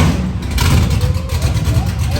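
A Chevelle engine runs without mufflers, a loud, close, rough rumble with small revving swells throughout, and voices talking over it.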